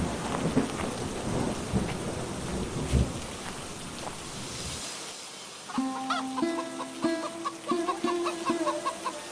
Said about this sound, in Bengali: বৃষ্টিও শুরু হয়েছে